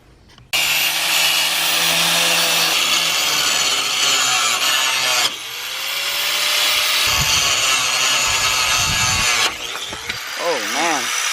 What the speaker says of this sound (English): Davis is working on putting that on the grinder